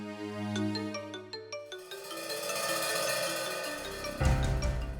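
A phone ringtone plays a bright chiming melody of repeated tones, fairly soft, with no voices over it.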